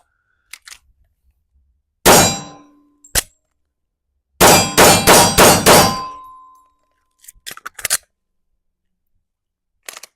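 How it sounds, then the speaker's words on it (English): Pistol rounds fired at steel targets on a shooting range: sharp ringing impacts come singly, then in a rapid burst of five, loud and close, with scattered clicks and clatter of handling between them. "my goal is to put all 6 rounds on target as quickly as possible"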